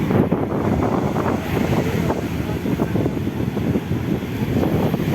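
Ocean waves rolling onto Puri beach, heard as a continuous broadband roar heavily buffeted by strong wind against the microphone, steady and loud throughout with no clear speech.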